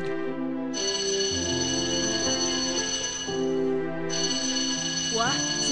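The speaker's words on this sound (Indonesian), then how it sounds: "Wah, sudah bel nih" An electric school bell rings loudly and steadily, with strong sustained tones that cut out briefly and resume, a chiming ring layered over it near the end.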